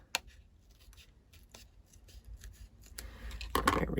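Scissors trim paper for a scrapbook album in a few sparse snips, close and fairly quiet, with a louder cluster of cutting and rustling near the end.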